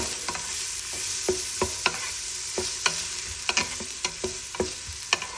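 Onion and minced meat stirred together in a frying pan, a steady quiet sizzle broken by a dozen or so sharp scraping knocks of the spoon against the pan, close and fairly soft.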